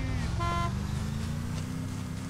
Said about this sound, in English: Honk if you hate the police!